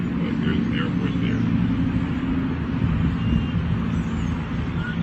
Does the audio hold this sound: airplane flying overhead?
yes